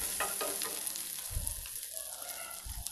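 Dry red chillies, shallots and garlic frying in hot oil give a steady close sizzle, with scraping stir strokes and a few low knocks of a spoon against the pan.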